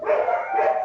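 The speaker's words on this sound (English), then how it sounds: "excuse my dog, sorry." A pet dog barks and yips once in a single close, loud, whining outburst lasting under a second, with no talk over it.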